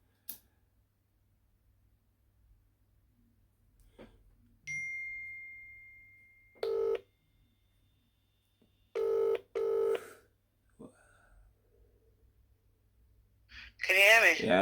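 After a dropped phone call, short bursts of telephone dialing tones and a brief line tone sound between quiet stretches, followed by a loud burst of voice at the end.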